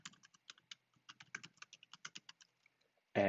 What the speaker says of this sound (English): And so I'm just going to type in my email address here.